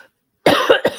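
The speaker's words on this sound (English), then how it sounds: "Sorry about my cough." A short, loud cough bursts out after a moment of silence, a few rough hacks in quick succession close to the microphone, from someone who has just woken up.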